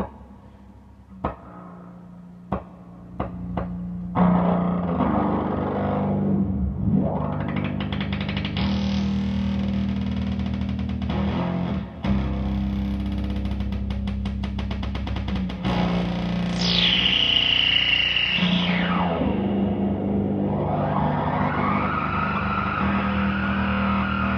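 A bass guitar through an effects pedal drones loudly and continuously, heavily distorted and processed, its tone shifting abruptly between settings, with warbling sweeps and a pitched whine rising and falling.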